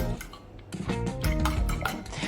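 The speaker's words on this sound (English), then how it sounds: "Whisk gently with a fork just until the eggs are broken up." A fork whisks eggs gently in a bowl for quiche Lorraine, a quick run of close rhythmic clinks and taps against the dish, growing busier toward the end, with no talking.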